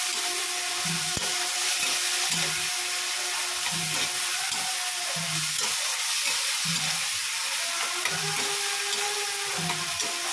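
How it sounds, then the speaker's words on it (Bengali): Ridge gourd fries in oil with a mustard-seed tempering: a steady close hiss of frying runs throughout, punctuated by a regular rhythm of soft scraping strokes roughly every second. "ওর মধ্যে আর একটু তেল দিয়ে ঝিঙেটা ভাজতে বসে দিয়েছি"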